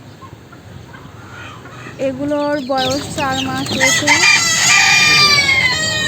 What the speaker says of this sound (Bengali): আর এই যে এইগুলো আমার ডিম পাড়া ফার্মি মুরগি